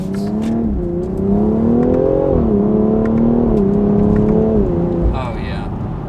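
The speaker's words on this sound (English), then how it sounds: "the S58 sounds amazing" A BMW X3M with the S58 engine, running a Bootmod3 stage 1 tune, climbs through the revs in one steady, loud pull with rising engine tone, heard from inside the cabin.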